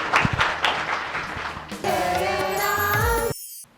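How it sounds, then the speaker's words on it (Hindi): During a Ramayana recitation competition program, an audience claps in a brief burst of applause that gives way after a couple of seconds to sustained tonal music before cutting off. "जोरदार तालियां।"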